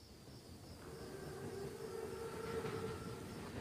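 An armored Panzerzug train in Call of Duty WWII rumbles in steadily and grows slightly louder, with a sustained whistle-like tone over the low rolling noise.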